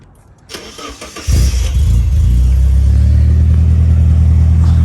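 A project car's engine cranks and fires up, then settles into a loud, steady idle rumbling through a MagnaFlow muffler exhaust, heard close with no talk.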